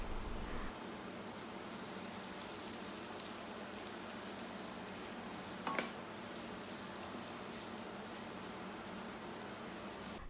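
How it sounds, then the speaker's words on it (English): Onions and mushrooms sauté in a pan over medium heat for a mushroom butter masala, giving a steady, fairly loud sizzle throughout with one brief stir or scrape partway through. "Then add the mushrooms and saute for 1 to 2 minutes."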